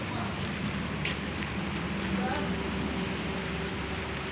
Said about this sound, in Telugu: చూడండి ఫ్రెండ్స్, బాగా వర్షం వస్తుంది.